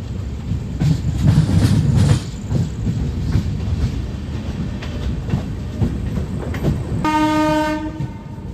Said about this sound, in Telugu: సో పావుగంట డిలేలో వచ్చింది బండి.